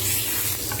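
Curry leaves sizzle in hot olive oil for a tempering. The frying hiss is close, bright and continuous, with no voices.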